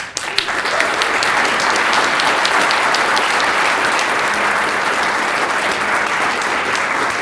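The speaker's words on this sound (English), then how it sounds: "So please give them all your biggest round of applause." Big round of audience applause for the speakers at a science communication competition final, loud, dense and sustained, a large crowd clapping without a break.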